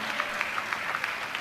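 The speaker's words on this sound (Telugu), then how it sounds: "చప్పట్లు కొడితే యేసయ్యకు స్తోత్రాలు చెప్పు" A church congregation claps during a sermon, a steady wash of many hands applauding at moderate distance, soft and continuous with small sharper peaks, no talk over it.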